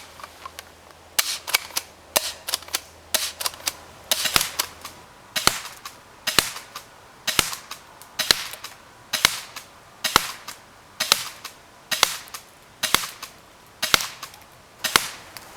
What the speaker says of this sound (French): On va tirer une dizaine de billes